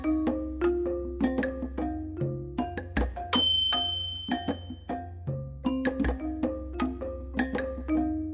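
A notification bell sound effect rings out as a bright, repeated melodic ding-dong chime over a looping electronic music bed, with several clear tones in steady rhythm and no voices.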